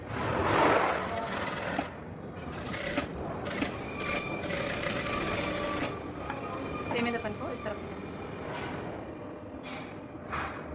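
A sewing machine stitches a seam on a princess cut blouse in short whirring runs that start and stop, quiet and close, while a woman explains in Hindi throughout.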